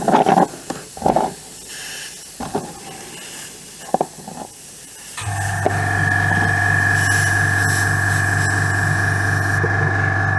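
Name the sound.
air compressor running during airbrush painting of miniatures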